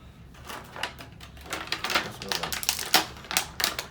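Makeup brushes from a four-piece brush set are slipped out of thin plastic sleeves, giving a run of crisp crinkling and rustling bursts with a few sharper crackles, close and fairly quiet, with no voice.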